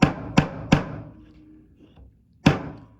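Three quick hammer taps on a nail driven into a wooden base, evenly spaced, then a pause and a fourth single strike; close, sharp and dry with no talking.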